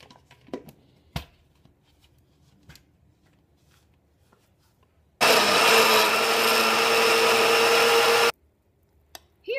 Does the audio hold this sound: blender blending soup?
yes